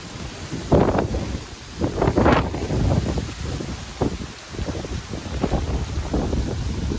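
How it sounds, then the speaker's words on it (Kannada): Strong wind blows across an open farm field during a rain shower, roaring and buffeting the microphone in loud, irregular gusts with no talking. "ಗಾಳಿ ಎಲ್ಲ ಸಿಕ್ಕಾಪಟ್ಟೆ ಬಿಡಾಕತೈತೆ"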